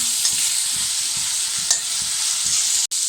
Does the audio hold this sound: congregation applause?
no